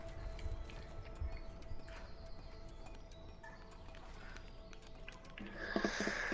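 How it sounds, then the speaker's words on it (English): Horses in the video game A Way Out, with steady clip-clop hooves and low stable rumble, a faint whinny and bird chirps, growing louder and busier near the end. "Now we just need to let the horses out."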